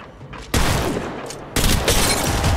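Gunfire in Apex Legends, two sharp loud bursts of weapon fire each trailing into a dense rattle, close and dominant with no talk over it.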